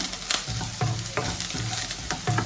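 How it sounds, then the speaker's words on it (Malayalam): Onions and green chillies sauté in a pan with salt, giving a steady close sizzle with a few stirring scrapes, no voices. "ഉപ്പിട്ടിട്ട് ഒന്ന് വഴറ്റിയ ശേഷം"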